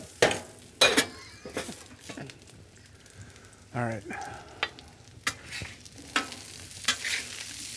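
Corn with butter and sugar frying on a Blackstone griddle, with a soft steady sizzle broken by scraping spatula strokes and metal clinks nearby, while a person speaks briefly.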